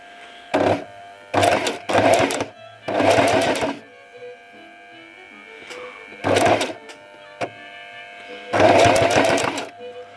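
A sewing machine stitches denim jeans in short runs, several loud rapid mechanical bursts close up separated by pauses, with quiet background hum and occasional talking between runs.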